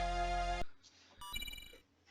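Bell-like notification chime with a bright, rich harmonic tone sounding alone for about half a second, cutting off sharply, followed by a softer, higher tinkling chime.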